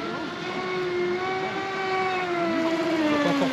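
A Traxxas M41 RC boat's electric motor runs steadily as a sustained, tonal whine that drifts gradually lower in pitch, moderately loud with a faint wash of background noise.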